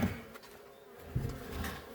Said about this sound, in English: Lots of bees flying out the doors.